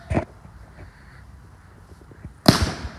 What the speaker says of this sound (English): Let's see some fireworks, yeah?